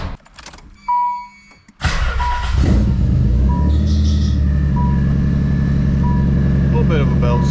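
A Nissan 300ZX coughs through a few cranks and pauses, then catches and settles into a loud, steady, rumbling idle close by, with a faint whine riding above it and speech heard over the engine.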